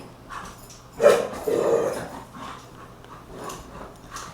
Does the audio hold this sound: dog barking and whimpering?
yes